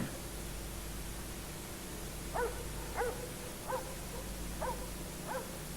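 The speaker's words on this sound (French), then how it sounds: "C'est sûrement les chiens de nos voisins qui poursuivent un chat." Neighbours' dogs bark while chasing a cat, five separate barks spaced about every half second to a second, heard at a distance and fairly faint over a steady hiss of background noise.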